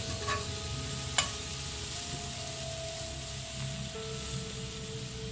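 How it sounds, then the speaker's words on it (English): Bacon frying in a pan gives a steady, fairly loud hiss and sizzle throughout, with one sharp clink near the start and faint tonal hums in the background. "So we're going to get the bacon frying away."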